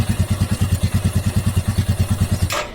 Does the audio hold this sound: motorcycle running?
yes